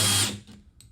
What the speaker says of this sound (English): drill a starter hole for our